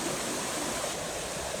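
A river flows steadily beside an evening campsite in the Grayson Highlands of Virginia, its broadband rushing wash continuous and fairly loud across the whole moment with no voices over it.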